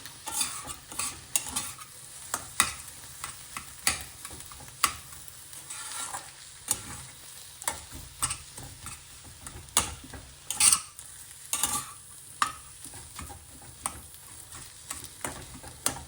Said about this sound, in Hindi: अब हम इन सबको मिक्स करेंगे और ऐसे धनिया भी थोड़ा पक जाएगा।